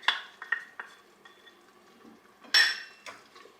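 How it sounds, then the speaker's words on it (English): A spoon stirring buttermilk into sorrel sauce in a pot gives a few soft scraping swirls and light clinks against the metal, with one sharper clatter partway through, in a quiet kitchen. "give it a good stir"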